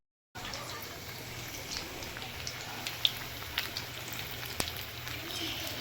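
Onion fritters (peyaji) made with gram flour batter crackle and hiss softly in hot oil in a home kitchen, a low steady sizzle dotted with small pops, with a faint voice in the background.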